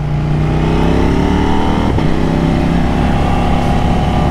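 KTM Duke 890 R motorcycle fitted with an IXIL RC exhaust, heard close while riding out of a roundabout, its engine rising in pitch as it accelerates, loud and continuous.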